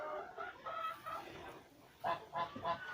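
A large flock of chickens and roosters in a barn, waiting for feed, clucks and calls in repeated bursts, fairly quiet and mid-distance, the calls bunching up in the last second.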